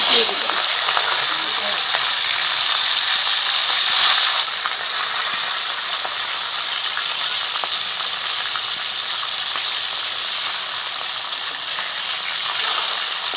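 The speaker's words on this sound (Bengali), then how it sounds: "খয়রা মাছ নুন হলুদ মাখিয়ে নিয়েছি, এবার ভাজা করব তো তেলে।" Khoira fish rubbed with salt and turmeric fries in hot oil, producing a loud, steady, close sizzle that runs unbroken throughout with no talk.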